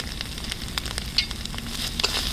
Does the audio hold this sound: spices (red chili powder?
yes